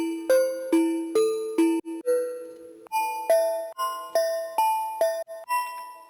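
A bright layered synth patch from Ableton Collision's default preset with classic-mode chorus plays a sequence of struck, bell-like notes with ringing overtones. The notes land in a steady, evenly spaced rhythm, clear and alone.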